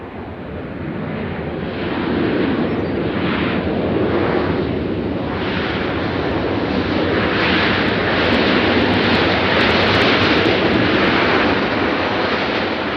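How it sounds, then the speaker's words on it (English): A Southwest Airlines jet landing at Nashville International Airport, a broad roaring rush of jet noise that swells and holds steady, loud and sustained with wind buffeting. "a Southwest landing on the near side"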